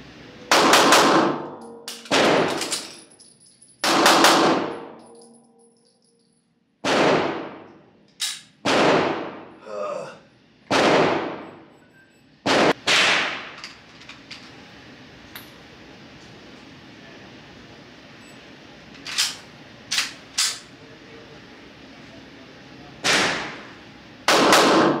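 A Daniel Defense H9 pistol fires about fifteen sharp, loud shots in irregular bursts. Some come in quick pairs and others are spaced several seconds apart, with quiet gaps and faint background noise between them.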